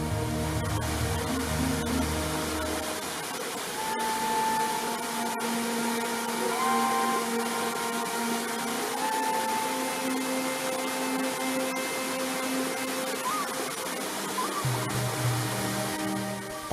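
A large, clear, fast-flowing river on Konawe Kepulauan rushes with a continuous steady roar, partly blended under sustained musical tones.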